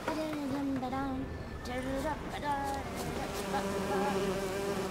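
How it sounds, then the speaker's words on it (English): Bees buzz steadily in The Witcher 3 countryside, a continuous droning hum of insects heard under ongoing talk. "Oh, bees."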